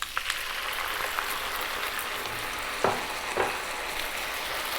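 Crispy Chinese garlic fish fries in a pan with sweet chili sauce, a loud continuous sizzle with crackles and a couple of sharper stirring clatters, no voices.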